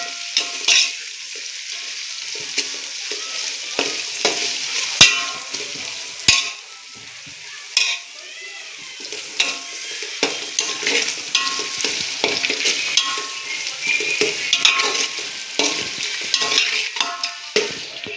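Two tomatoes hit a pan of fried ginger garlic paste for chicken biryani, sizzling steadily with sharp spatula scrapes and stirring clatter throughout.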